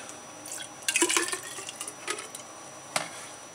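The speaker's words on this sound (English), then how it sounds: "we're going to fill our graduated cylinder about halfway, and we're going to figure out what our sugar content is" Mead must made with raspberries is ladled into a graduated cylinder, giving a few soft drips and splashes of liquid, then a brief clearer pour splash near the end, fairly faint and with no talking.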